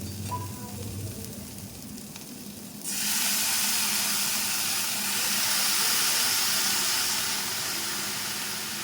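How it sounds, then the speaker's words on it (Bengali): Diced ridge gourd pieces tipped into a pan of frying prawns set off a sudden loud, steady sizzle that follows a few seconds of quieter cooking sounds and holds strongly to the end. "ঝিঙেগুলো ধুয়ে রেখেছি সেগুলো এবার এই চিংড়ি মাছের মধ্যে দিয়ে দেব"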